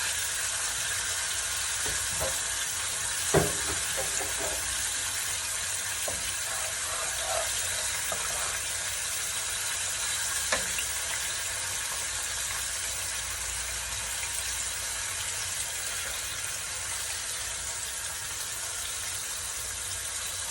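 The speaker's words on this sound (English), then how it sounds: "So I'm adding the lobster meat to this little sauce here." Lobster tail meat sizzles steadily in a small pan sauce at home, a loud, even frying hiss throughout with a few faint clinks and stirring taps.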